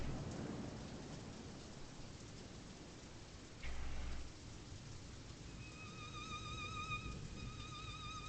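Heavy rain pours steadily in a dark horror video game, with a close thunder crack around the middle and a faint repeating musical tone emerging toward the end.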